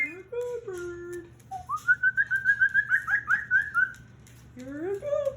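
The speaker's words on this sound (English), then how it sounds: "You're a good bird." A pet bird whistles a run of clear, sliding notes, with a longer warbling stretch in the middle and rising phrases at the end, close and fairly quiet over a faint steady hum.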